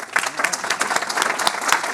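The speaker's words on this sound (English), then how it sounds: "let's give them a round of applause" Audience applause after a cybersecurity panel discussion, a steady wash of many hands clapping close by for about two seconds.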